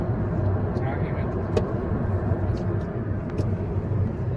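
A steady low rumble of cars passing on a nearby road, continuous throughout, with faint voices mixed in.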